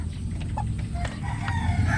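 A White Kelso Butcher rooster sounds off amid a flock, with soft clucks and a brief crow-like call over steady low background noise.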